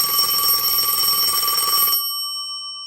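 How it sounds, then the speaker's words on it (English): A telephone bell rings loudly and steadily for about two seconds, then cuts off abruptly, leaving a brief fading ring. "The phone rang."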